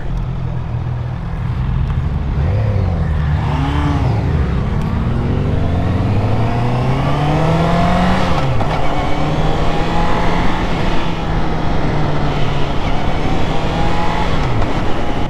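A 2025 Honda CB650R with E-Clutch pulls away on an open road, its loud, close engine note climbing in pitch through several rising sweeps as it shifts up, with steady wind rush underneath.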